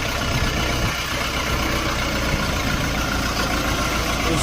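A four-cylinder, four-wheel-drive, 50-horsepower mini tractor diesel engine idles steadily nearby with a constant rumbling chug and clatter, unchanging throughout, no voices.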